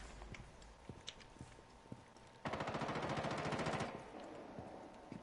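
A quiet run of scattered shots and footsteps gives way to a sudden sustained burst of rapid automatic gunfire of about a second and a half in the video game Rainbow Six Siege, followed by further faint single shots.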